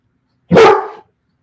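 A single sharp dog bark rings out close and loud, a short burst standing alone against silence.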